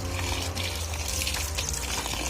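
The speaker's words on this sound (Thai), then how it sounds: "เอาน้ำใส่ถุงถ่วงนะครับ" Tap water gushes steadily into a plastic bag being filled as a weight for pickling bamboo shoots, a loud, close, continuous pour with no talk.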